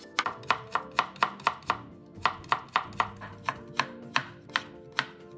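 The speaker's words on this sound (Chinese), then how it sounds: "切片后再切成丝。" A knife chops carrot on a cutting board in quick, even, crisp strokes, about a dozen sharp knocks with a short pause midway, close and clear with no talking.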